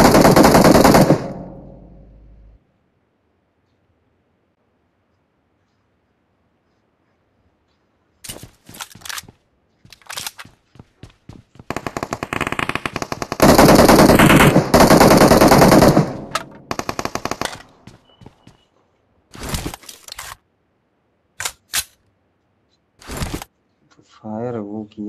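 Bursts of automatic gunfire from the battle royale game BGMI, loud rapid volleys in separate clusters with long silent gaps between them and scattered single shots near the end.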